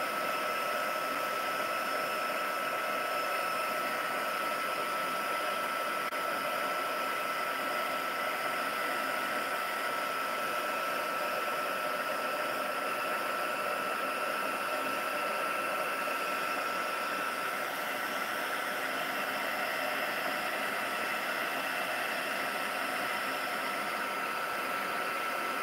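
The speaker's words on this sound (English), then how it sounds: "Just going to go in and heat emboss it." A heat embossing tool blows hot air over embossing powder on a card project resting in a metal tray, a steady whirring hiss held close and even for the whole stretch, with no talking.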